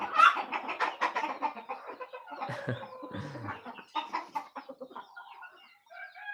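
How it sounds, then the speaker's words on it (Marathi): Chickens on a poultry farm cluck and chatter in a busy, overlapping flock, close and fairly loud, with short squawks rising and fading for several seconds. "फार्मवर कोंबड्यांचा किलबिलाट ऐकून मन प्रसन्न होते"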